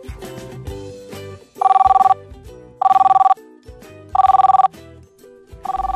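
Telephone bell ringing in bursts, four loud electronic trills spaced about a second apart over a continuous background music bed, with no talking.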